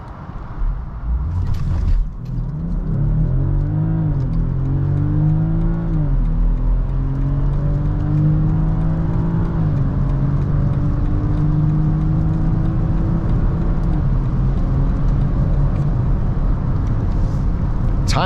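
A 2021 BMW X5 45e plug-in hybrid SUV launches and accelerates hard from high speed on a road, its engine note rising steadily in pitch through gears with a continuous loud whir and road roar, heard from inside the cabin.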